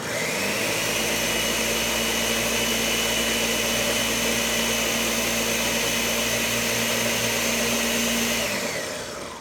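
A blender whirs loudly and steadily at close range as it purées oatmeal and almond milk into a smoothie, then spins down and stops just before the end.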